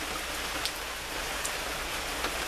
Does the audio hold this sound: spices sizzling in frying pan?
no